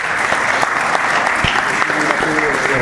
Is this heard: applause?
yes